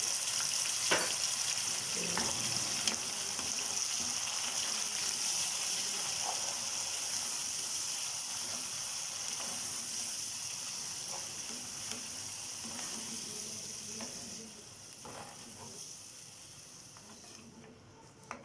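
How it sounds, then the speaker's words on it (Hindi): Chickpeas, spices and yogurt sizzle in a cooking pot for halwa poori's chana, a steady broadband frying hiss that carries on unbroken and slowly fades a little, close by with no talk. "अब इसमें हम डाल रहे हैं चने, और साथ ही हम अपने ये मसाले डाल देंगे, और साथ ही ये दही डाल देंगे"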